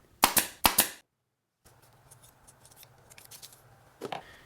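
A nail gun drives small 3/8-inch nails at an angle into a miniature wooden girder truss, giving three sharp, close snapping shots in quick succession, then quiet handling noise and a softer final clack.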